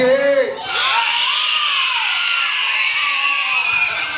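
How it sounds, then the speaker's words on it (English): A crowd of guests at a child's first birthday party shouts and screams in unison: a loud, sustained roar of mixed voices that holds steady for several seconds after a brief opening call. "If you think mommy Faye is the winner, say yeah!"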